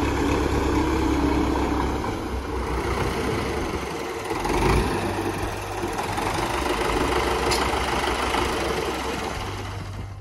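A modified Russian-made Belarus 75 HP tractor weighing over 40 quintals idles with a steady, low, rumbling drone throughout, close by and without talking.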